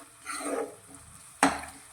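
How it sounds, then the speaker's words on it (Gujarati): A spoon pressing softened cooked tomatoes and peas in a pan, soft squishing and light sizzling, followed by one sharp clink of the spoon against the pan. "આ રીતે આપણે ચમચાની મદદથી પ્રેસ કરી લઈશું"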